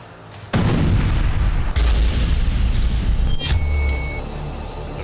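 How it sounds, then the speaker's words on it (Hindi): A sharp, heavy blast erupts abruptly, then another boom, with sustained thunderous rumbling and crackling that slowly fades at the end. "चौथा विस्फोट।"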